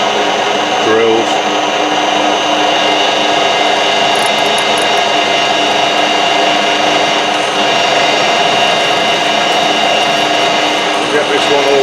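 A lathe runs steadily at reduced speed while high-speed steel drills bore into tough steel, a loud continuous motor whine and grinding hum with a few brief higher squeaks and knocks near the start.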